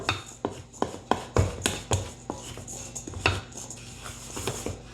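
A spoon clatters repeatedly against a bowl while apples are stirred into dry ingredients, giving a series of sharp, close scraping knocks in an uneven rhythm.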